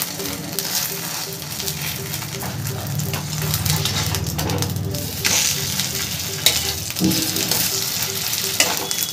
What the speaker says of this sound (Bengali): এবার দুই সাইডটা কড়া করে ভালো করে ভেজে নেব।